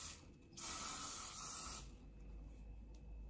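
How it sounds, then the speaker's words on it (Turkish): An aerosol can of hair spray releases two hissing bursts, a short one followed by a longer steady one of about a second, close and fairly quiet in a calm room. "Şimdi biraz böyle sprey sıkacağım."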